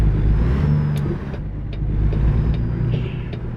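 Heavy truck diesel engine in American Truck Simulator rumbling steadily at idle after starting, a loud, constant low drone with a few faint clicks over it.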